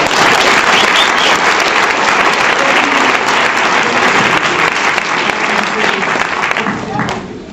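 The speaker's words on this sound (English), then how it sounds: "Big round of applause for them." A lecture audience at a physics session gives a student crew loud, steady applause that carries on throughout and tapers slightly at the end.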